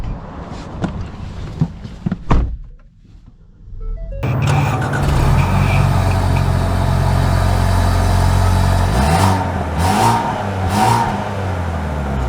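A Ford Escape ST-Line Elite engine starting up after a quiet stretch, then running with a steady low hum and rising revs, close and continuous without talk.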